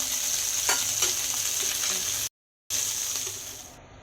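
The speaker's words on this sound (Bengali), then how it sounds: "মাছগুলো ভাজা ভাজা হয়ে এসছে" Bhola fish fry in hot oil with turmeric and salt, a loud, steady sizzle with crackles and the occasional clink of stirring; the sound cuts out briefly midway, then resumes before fading slightly.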